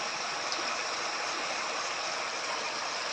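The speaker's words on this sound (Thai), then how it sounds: "เสียงน้ำไหล" Steady rushing water of a stream in deep forest, a dense even wash of sound close by with no breaks and no voices.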